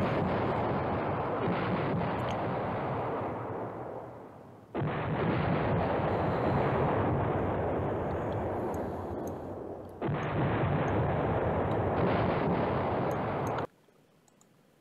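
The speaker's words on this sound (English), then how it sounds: "Okay, he's bombing over there." Bombing in the wargame Command Ops 2 arrives as three long, loud stretches of rumbling artillery-like blasts, each running several seconds and cutting off abruptly, with brief quieter gaps between them and no voices.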